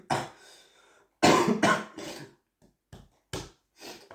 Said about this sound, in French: je fais que tousser